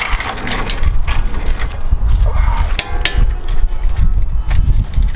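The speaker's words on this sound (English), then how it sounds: "I'm gonna go ahead and grab my torque wrench and set it to 103 foot-pounds of torque, along with my 24mm socket" A torque wrench fitted with a 24mm socket ratchets as a bolt on a Lexus GX470 lower control arm is tightened, a rapid close clicking with a few sharper knocks and clanks.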